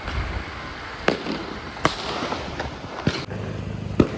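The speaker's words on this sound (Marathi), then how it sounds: "ऑलरेडी तिकडे एक फटाके फोडायचं चालू झालं आहे" Diwali firecrackers bursting at a street celebration, several sharp cracks and bangs at irregular intervals over a noisy crowd background, some loud and close, others more distant.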